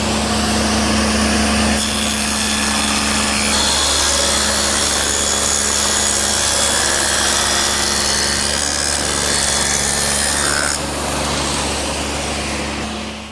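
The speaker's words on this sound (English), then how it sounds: "I've set up the saw with the dado head cutter again" A table saw fitted with a dado head cutter runs steadily through wood, giving a loud, sustained whining cut that changes pitch partway through and then eases near the end, with no talking.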